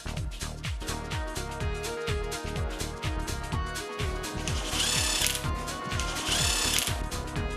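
Rapid mechanical whirring of a power tool driving bolts on a Pulsar 200cc motorcycle engine during assembly, in repeated short bursts with a steady rhythmic buzz and brief pauses between runs.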